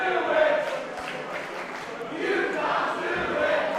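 Wrestling crowd at a live indoor show chanting in unison, a dense, loud rhythmic roar of many voices filling the arena with no break.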